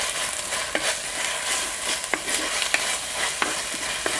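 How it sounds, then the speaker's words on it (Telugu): Onions and ginger-garlic paste fry in a pan for a mutton dalcha, with a steady close hiss of sizzling broken by occasional light scrapes as the mixture is stirred. "రెండు చెంచాలు అల్లం వెల్లుల్లి పేస్ట్ వేసుకుని పచ్చివాసన పోయే వరకు బాగా వేయించుకుందాం"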